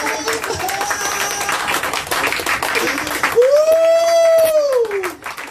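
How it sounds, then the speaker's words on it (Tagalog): A church congregation claps during a Sunday sermon, a light, scattered patter of hands running under a sustained voice and tonal sounds, fading as a louder held tone rises near the end. "Nakakaantok ang palakpak nila"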